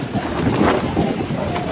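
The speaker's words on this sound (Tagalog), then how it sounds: "Lakas ng hangin." Strong wind blows across a vineyard, buffeting the microphone with a loud, continuous rushing roar that swells and eases briefly.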